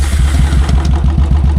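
A Royal Enfield Bullet 350 motorcycle idles close by, its single-cylinder engine thumping in a steady, rapid beat, loud and alone.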